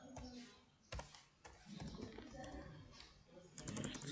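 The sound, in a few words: typing on a computer keyboard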